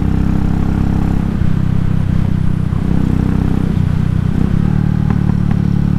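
A Royal Enfield Classic 500 single-cylinder motorcycle with an aftermarket free-flowing AEW Gold Star exhaust, riding with a custom map, gives a steady, loud, deep droning thump that holds throughout with no talk.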